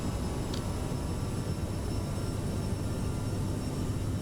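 Airliner engines spooling at takeoff thrust in Microsoft Flight Simulator 2020: a steady, loud, broadband roar with deep rumble, continuous and unbroken throughout, heard alone without any voices.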